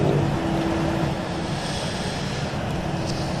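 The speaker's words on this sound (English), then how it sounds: "engines are both responding." Twin jet engines of an Airbus A319 spool up in Flight Simulator X, a loud, continuous roar and whine holding steady throughout.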